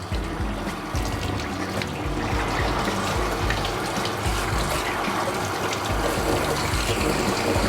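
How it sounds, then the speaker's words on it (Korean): Handheld shower spraying water onto a dog during a grooming bath, a continuous, fairly loud hiss and splatter with shifting patter as the gentle stream moves over fur, with no voices. "지금처럼 물줄기를 조금 부드럽게 사용하시면 좋아요"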